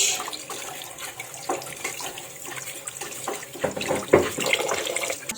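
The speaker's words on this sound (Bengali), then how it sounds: "মাছ ধুবো হ্যাঁ, পুরো লাল লাল রক্ত আমি ধুয়ে নেব মাছ" Tap water runs over raw fish being washed clean of blood in a kitchen sink, a close, uneven splashing stream with clattering handling sounds and no talk.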